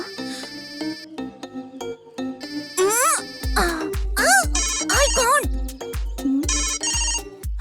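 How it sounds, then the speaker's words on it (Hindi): A phone ringtone plays a repeating electronic melody, loud and close, with a voice speaking briefly over it. "अपने फोन पर मैंने फोन किया है"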